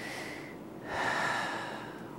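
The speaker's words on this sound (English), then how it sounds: "Here's high chest breathing that we should not use." A voice teacher demonstrates high chest breathing, with a quick audible breath drawn in sharply followed by a longer airy inhale, close and quiet with no speech.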